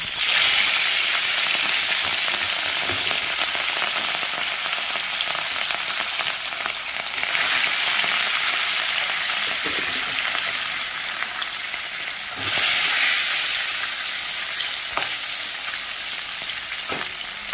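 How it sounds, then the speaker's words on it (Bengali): Pieces of rohu fish frying in hot oil in a wok give a loud, continuous sizzle and crackle, with brief surges as more pieces go in, and no talking. "তেল গরম হয়ে গেছে এবার আমি এক এক করে মাছগুলোকে ছেড়ে দেবো"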